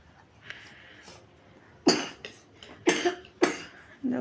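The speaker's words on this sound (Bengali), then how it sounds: "কাশি দিচ্ছে কীরকম" A child coughs nearby in a series of four or five harsh bursts, spaced about half a second to a second apart, after a few quieter sounds at the start.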